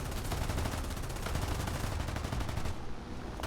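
Rapid, sustained machine-gun fire from aircraft gunners in War Thunder, a dense rattling burst running nearly the full length at close, loud level before easing slightly at the end.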